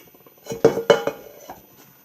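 A metal camping kettle lid lifted off, giving a few close, bright clinks and rattles in quick succession before fading into quiet.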